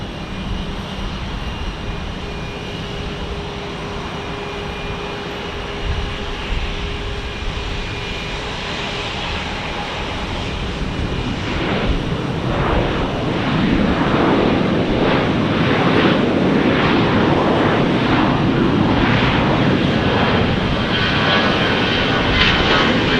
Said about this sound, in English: A320 taking off for American Airlines.